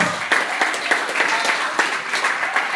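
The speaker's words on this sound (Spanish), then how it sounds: "Dale ese aplauso al Cordero de Dios" Church congregation applauding during a sermon, dense clapping with a faintly rhythmic pulse, moderately loud and steady for a few seconds.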